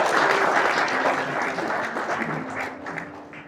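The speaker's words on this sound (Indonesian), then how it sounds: "Tepuk tangan bagi Tuhan." A church congregation claps together in dense, sustained applause that stays steady, then slowly fades toward the end.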